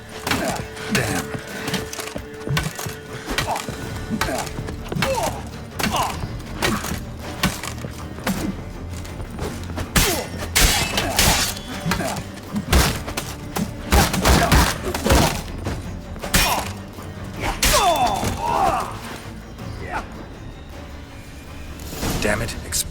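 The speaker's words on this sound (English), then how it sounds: "That explosion gets us in the vault." Explosive bursts and splintering impacts blow open a vault in The Witcher 3: Hearts of Stone, a rapid series of loud cracks and thuds over a busy game soundscape.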